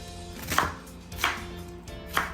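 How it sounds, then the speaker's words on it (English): Onions being chopped with a knife for a catfish tomato stew: three separate, spaced cuts, each a crisp slice ending in a board knock, close by against a low steady background hum. "Also going to cut up the onions."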